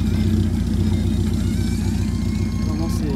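Alfa Romeo Alfasud rally car engine running steadily at a rally stage in Gérardmer, a loud low rumble with a throbbing idle texture held throughout, close by.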